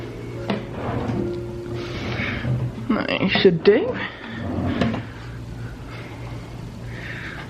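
Hotel room drawers slide open and shut in a short cluster of wooden knocks and scrapes mid-clip, close and fairly loud, with a person talking briefly before and after.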